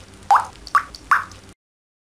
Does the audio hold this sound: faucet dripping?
yes